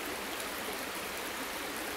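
River flowing beside a camp cooking spot on a hiking trip: a steady, even rushing of water filling the whole short stretch, close and unbroken, with no talk.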